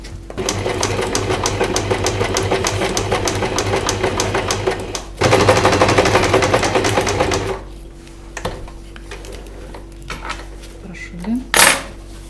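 Domestic sewing machine stitching fabric for a doll body, a steady fast clatter for several seconds that briefly picks up and then stops, followed by a few faint handling clicks.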